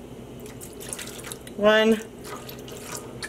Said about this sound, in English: 2 healthy splashes of vinegar, just to try to temper that color bleeding